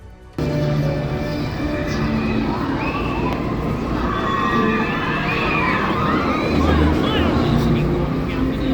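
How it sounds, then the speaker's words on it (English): Crowd noise and shouting from riders on roller coasters in the Jurassic Park area of a Universal Studios theme park, a steady loud wash of distant yelling and screams with rumbling ride and background sounds throughout. "Since there are roller coasters here, you'll constantly hear people shouting and yelling."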